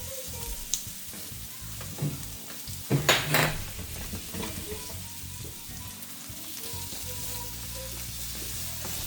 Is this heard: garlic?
yes